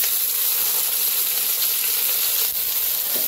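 Coriander leaves and green chilies fry in hot oil in a pan, giving a loud, steady, close sizzle that hardly varies, with a faint stir or scrape near the end.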